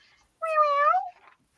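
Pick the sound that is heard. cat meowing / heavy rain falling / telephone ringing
cat meowing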